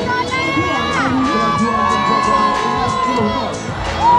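Dense crowd at a Malaysian Independence Day parade screaming and cheering for firefighters, a loud continuous wash of excited shouts and children's voices close around, with overlapping talk.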